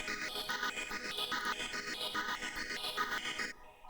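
A Serum-style synth preset chopped by Gross Beat and a 1/3 gate set to 1/2, for a hard FL Studio beat; rhythmic stuttering chords pulse steadily on their own, then cut off abruptly near the end.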